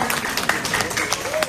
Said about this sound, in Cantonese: 係需要大家嘅掌聲啊！